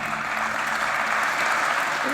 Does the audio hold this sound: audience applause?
yes